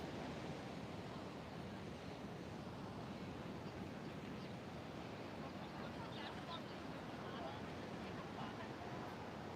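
Ocean waves rolling in on a San Diego oceanfront, heard as a steady, broad wash of surf noise with faint hiss, continuous and moderately distant.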